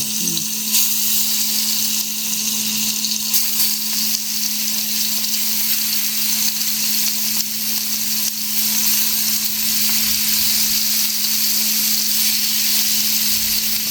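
A chilli mixture frying over a low flame for paneer pulao, giving a steady, close sizzle with soft hiss that runs unbroken throughout, with no voices.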